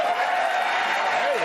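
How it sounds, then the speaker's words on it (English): A studio audience bursts into steady applause for a late-night political talk show host, a dense wash of clapping that fills the whole moment, with a voice faintly mixed in. "Rousing applause."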